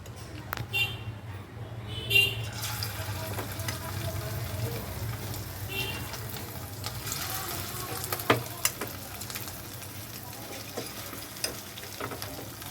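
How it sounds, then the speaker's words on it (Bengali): Pieces of katla fish frying in hot oil for chili fish, a steady soft sizzle running throughout with a few small pops and clinks, moderately close. "তেল দেখুন গরম হয়ে এসছে এবার একটা একটা করে মাছের পিসগুলো আমি তেলের মধ্যে দিয়ে দেবো"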